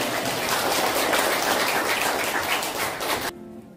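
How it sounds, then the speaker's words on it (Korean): A church congregation at a Korean Sunday worship service bursts into dense, steady applause, loud and sustained for about three seconds before cutting off abruptly into quiet. "하나님께 영광의 박수를 드립니다"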